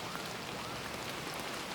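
Steady rain ambience from the farming video game Super Farming Boy, a soft, even patter of drops filling the space continuously, faint and with no voices.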